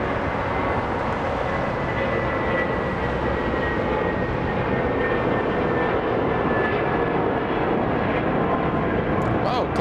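A jet airliner takes off and climbs steeply from Los Angeles International Airport, its engines roaring as a loud, sustained broadband rumble that fills the whole clip, with voices talking over it.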